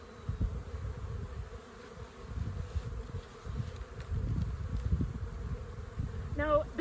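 Honey bees at a nucleus hive set above a strong colony keep up a steady low buzzing hum close by, with soft rustling and a faint voice underneath.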